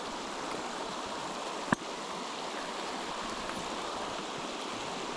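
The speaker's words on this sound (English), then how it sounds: "Walk on down here to the stream." Stream water flowing steadily in a wintry outdoor setting, a continuous broadband rush at moderate level with one brief sharp knock partway through and no speech.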